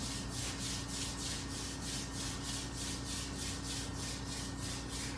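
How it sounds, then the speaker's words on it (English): Palms rub briskly together in a steady back-and-forth rhythm, a soft, even swishing that repeats about three times a second, close and alone over a faint background hum. "So we start rubbing our hands."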